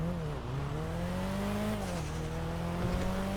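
Nissan GT-R modified to resemble a classic Skyline, its turbocharged engine holding a steady rorty drone with slight rises in pitch, heard from nearby at moderate loudness.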